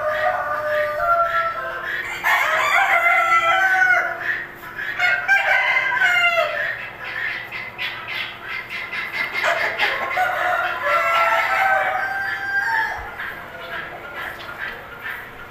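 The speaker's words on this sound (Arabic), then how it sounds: "حبته هنا مع الفراخ السوداء لان الناس بتحب الفراخ السوداء" Indian-breed chickens and black hens clucking in a busy flock while a rooster crows loudly and repeatedly nearby; someone talks intermittently over the birds.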